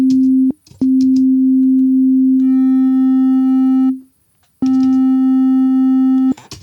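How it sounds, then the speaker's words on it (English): A loud, buzzy sustained tone, harsh and distorted by the Flatline 2 clipper plugin, cutting out briefly then returning, with a short gap of silence near the middle. "we can hear it sounds really heavy. It sounds really like distortion, right?"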